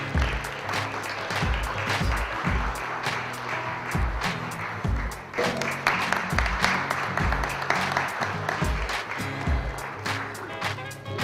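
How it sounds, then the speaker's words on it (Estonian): A crowd applauds the top three finishers at a 2012 Estonian karting season-closing ceremony, the clapping loud and sustained through the whole stretch with a short dip midway, no voices over it. "Aplaus kolmikule."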